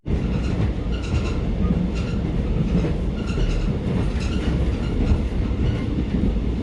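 Train rolling on rails with a steady loud rumble and faint rhythmic clacking of wheels, continuous throughout, with no talking.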